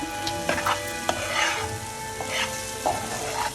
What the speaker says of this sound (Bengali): টমেটো দিয়ে আমি ভালো করে কষিয়ে নিছি